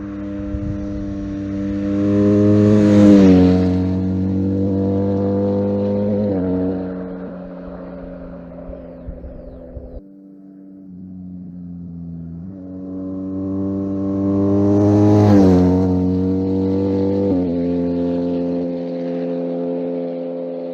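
A BMW R1250R motorcycle fitted with a slip-on exhaust passes twice, its deep droning engine swelling as it nears and fading away, then a second pass rises to another loud peak before trailing off, heard alone.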